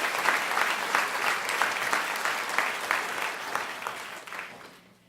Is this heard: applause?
yes